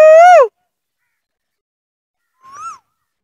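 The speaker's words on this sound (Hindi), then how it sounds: "देखें जी, यहाँ से कोयल की आवाज़ आ रही है।" An Asian koel calls outdoors in rural Punjab near a bent date palm, giving one loud rising whistled note, then a fainter, more distant reply about two seconds later, with no talk.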